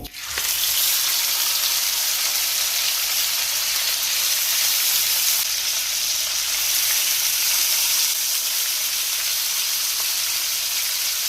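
Chicken shashlik sticks fry in hot oil over a low flame, giving a steady, loud, continuous sizzle and hiss with no talking, starting with a brief burst as the skewers go in.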